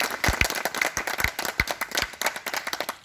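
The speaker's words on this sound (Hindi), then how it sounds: "इसके लिए सभी बच्चे के लिए हम जोरदार ताली।" Students clap loudly in celebration after passing the Railway Group-D physical test, a close round of sharp, distinct claps with a rhythmic, uneven pattern rather than a dense wash.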